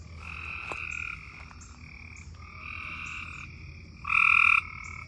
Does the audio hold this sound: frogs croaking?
yes